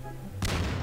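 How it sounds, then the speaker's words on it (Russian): An explosive barrel blows up in Garry's Mod, a sudden loud boom after a brief lead-in, then a rumbling, crackling tail that fades. "Взорву бочку, короче. Сейчас будет бабах."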